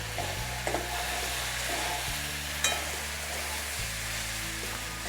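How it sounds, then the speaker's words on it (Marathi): Okra stir-fried in a pan over a full gas flame, giving a steady loud sizzle with stirring scrapes throughout and a low burner roar underneath, with no talk. "भेंडीला दोन ते तीन मिनटं आपल्याला फुल गॅसवरती चांगली हलवून घ्यायची"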